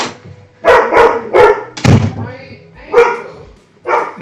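A dog barks several times, close and loud, in separate bursts with short gaps, while a person's voice is also heard.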